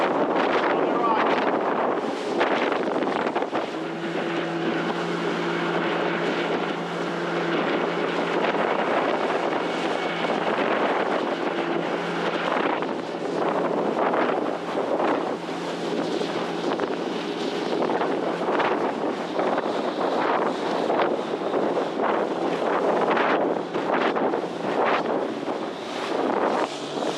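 A boat heading across the bay toward Tangier pushes through choppy waves and swell, wind roaring steadily across the microphone, with water slaps and splashes throughout and a voice talking briefly over the noise.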